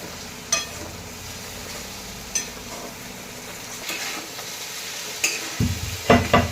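Onion and finely cut potato sautéing in a pan for bitter gourd bhaji: a soft background sizzle with scattered spatula scrapes and taps, and busier clattering stirring near the end.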